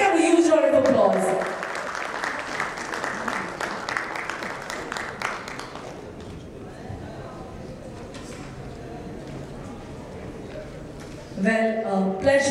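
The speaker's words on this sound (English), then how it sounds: "Can we have a huge round of applause?" Audience applause at a corporate award ceremony, clapping that swells after a voice speaks, then continues at a moderate level for several seconds before speech returns over it.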